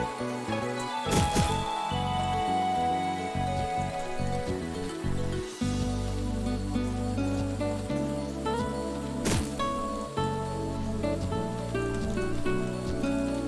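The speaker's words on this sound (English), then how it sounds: "Oh, it's raining." Steady rain patter in the video game CrossCode, layered over continuous music and occasional sharp impacts; no talking.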